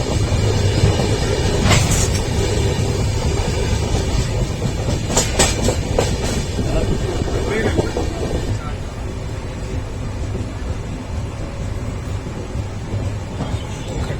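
A train rumbles steadily along the rails near Ratnagiri station with a continuous low roar and occasional rhythmic clacks, close and loud throughout.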